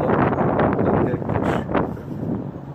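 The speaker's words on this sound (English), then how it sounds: "As you can see, it was real windy." Strong wind buffets a microphone outdoors on a blustery day, a continuous loud rumbling roar with gusty surges and no break.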